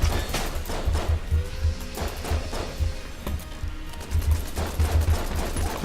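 Rapid volleys of gunfire from the Marine's starting pistol in Enter the Gungeon ring out loud and close, with dense bursts of shots over game noise and no talking.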